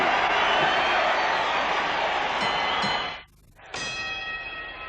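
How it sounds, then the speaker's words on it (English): Boxing ring bell signaling round 3 rings out with a bright, sustained metallic tone over a loud arena crowd, the noise cutting briefly before the bell's ring returns and decays. "The bell has sounded for round 3"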